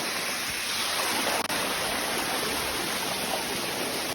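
Rushing water of the Sticky Waterfall near Chiang Mai in Northern Thailand, a dense, steady roar recorded up close and filling the whole clip with no voices.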